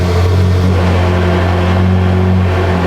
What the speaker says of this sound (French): Mets un petit coup de gaz fermé. Vas-y, ouvre.